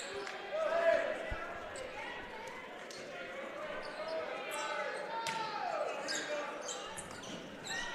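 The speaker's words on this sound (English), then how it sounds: "Ball bounced." A basketball bounces on an indoor court during a college men's game, with a few sharp, faint thuds standing out against a steady hum of crowd and gym noise.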